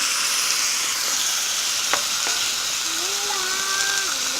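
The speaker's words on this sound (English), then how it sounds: "we're just going to let that cook until the apples soften" Apples cook in a pan with a steady, close, fairly loud frying sizzle throughout, and the sound of stirring and tossing comes over it, with no talking.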